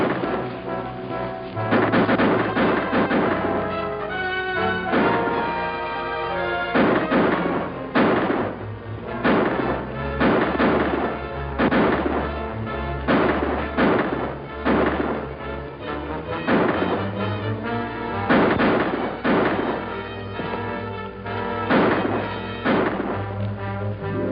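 Repeated gunshots in a 1950 western film ring out in steady bursts over an orchestral score, loud and close, with reports spaced every second or two across the whole stretch.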